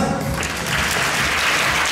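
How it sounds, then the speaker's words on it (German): Audience applause at a WFF Germany 2017 women's figure bodybuilding event during a trophy presentation, loud, dense and close, filling the whole moment without a break. "Einen Applaus für die Corinna."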